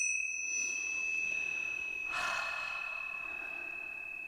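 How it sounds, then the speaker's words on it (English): A small feng shui bell struck once, a clear ringing tone with a sustained metallic overtone that slowly fades, heard alone and faint in a quiet room. "Let's ring the bells."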